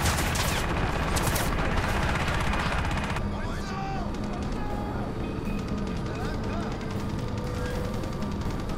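Rapid, sustained minigun fire in the video game Crysis, a dense continuous roar of automatic shots that stays loud throughout, with battle noise and voices mixed in.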